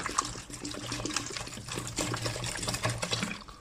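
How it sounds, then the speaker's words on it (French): Water from a mineral water bottle is poured into a bowl, a soft, steady splashing trickle heard up close and fairly quiet. "J'ai mis de l'eau dans ce bol."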